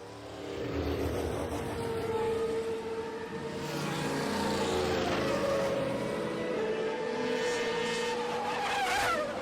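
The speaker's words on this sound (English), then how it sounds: "I should have had the Formula One cars herald your arrival beforehand" Formula One race cars with V8 and V12 engines scream past in a sustained, loud high-revving whine with shifting pitch and tyre noise, continuous throughout with no talk.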